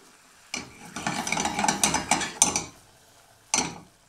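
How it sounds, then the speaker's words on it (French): A utensil scrapes and stirs through caramel in a pan as butter melts into it, giving a close scratchy swishing sound in one sustained stretch followed by a short final stroke. "On vient mélanger comme ça."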